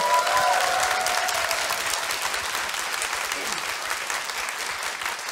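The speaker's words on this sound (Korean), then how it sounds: "뜨거운 박수 다시 한 번만 부탁드릴게요." Audience applause at a live economics concert broadcast in Korea, following a singer's opening performance: loud, dense, steady clapping from a large crowd that fills the whole stretch and eases only slightly toward the end.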